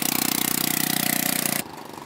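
Tandem scooter engine with a leaking exhaust, running nearby as a fast, raspy, rhythmic putter that abruptly drops to a lower, quieter idle near the end.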